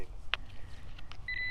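A metal detector sounds over a freshly dug hole holding a buried target: a quick chirp early on, then a steady electronic tone near the end, over faint outdoor background noise.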